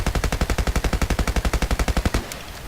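An MP5/G53 submachine gun fires one loud, steady full-auto burst of about twenty rapid evenly spaced shots in Battlefield Play4Free. A short echoing tail follows the burst, with no talking.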